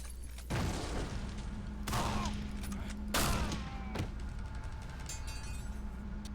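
Heavy shotgun blasts in the video game Condemned: Criminal Origins, three or four spaced booming shots with short decays over a steady low hum, fairly loud.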